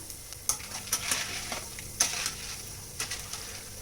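Sabudana (sago pearls) fry crisply in hot oil with a bright crackling sizzle, broken by sharp stirring scrapes and clicks at an irregular rhythm, close and fairly loud with no talking.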